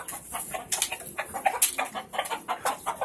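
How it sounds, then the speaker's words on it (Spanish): Fighting roosters clucking in short repeated bursts, fairly close, with a busy outdoor background and no talking. "Gallo de fina calidad."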